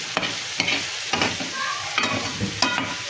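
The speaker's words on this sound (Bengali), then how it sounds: "এখানে আমি আবার করলা ভাজি করছি। করলা আর আলু একসাথে দুটো চাপিয়ে দিয়েছি।" Bitter gourd and potatoes frying together in a pan, stirred with a spatula: steady sizzle under a few scraping strokes of the spatula, close and moderately loud, with no voices.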